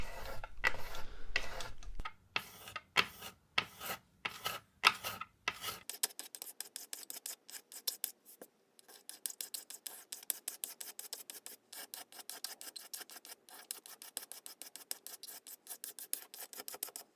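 A leveling block sanding a lacquer furniture finish, heard close and quiet: a few slow, separate rasping strokes at first, then a long run of quick, even scrubbing strokes.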